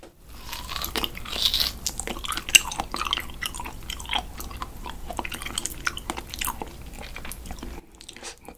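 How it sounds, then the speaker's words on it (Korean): Tearing and biting into a whole salmon by hand, close wet crunching and chewing in irregular bursts with crisp tearing sounds, quiet surroundings and no talk. "뜯는 소리도 나쁘지 않은 것 같습니다."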